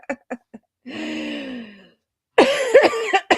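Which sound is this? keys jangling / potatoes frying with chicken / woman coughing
woman coughing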